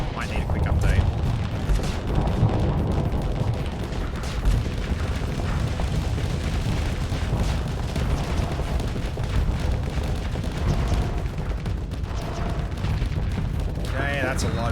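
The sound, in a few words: incoming missiles and weapons fire in Starsector video game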